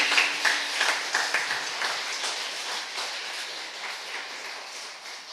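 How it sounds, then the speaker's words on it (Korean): Church congregation applauding, a dense wash of many hands clapping that starts loud and gradually thins and fades over several seconds, with no voices. "박수 한번 크게 주세요."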